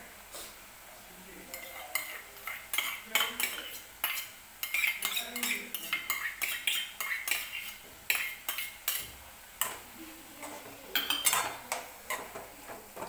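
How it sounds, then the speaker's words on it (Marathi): Spinach with dal and a coconut-garlic mix being stirred and sautéed in a pan: repeated close clinks and scrapes of a spoon against the pan in an uneven rhythm over a faint sizzle. "छान असं परतून घेऊया."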